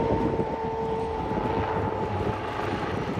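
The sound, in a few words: helicopter flying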